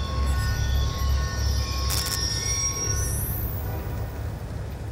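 A train passes in Call of Duty Black Ops II, with a steady rumble of wheels on rails, a brief metallic clank midway and a rising high wheel squeal near the end, heard alone without talk.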